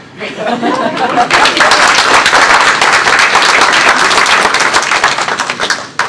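Applause from an audience at a science fiction Q&A session: dense, loud, continuous clapping from a large crowd that swells and holds for several seconds, with a few chuckles mixed in.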